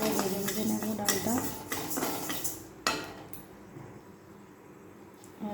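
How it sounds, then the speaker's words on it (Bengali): Lentils for khichuri fry in a pot, stirred with a metal utensil that scrapes and clinks against the sides in irregular bursts, loud and close, then gradually quieter and sparser. "ডালটা ভালো করে ভেজে ভেজে নেবো ডালটা"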